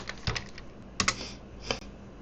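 Short bursts of keystrokes on a computer keyboard, quiet and close, in three small clusters of clicks with brief pauses between them.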